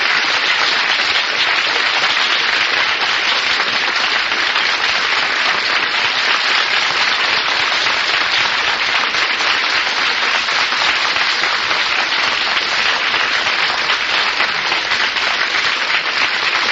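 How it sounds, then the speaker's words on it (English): A studio audience at a TV quiz show gives loud, sustained applause, dense and steady from start to finish with no pause or talking. "smile and applaud as if you had"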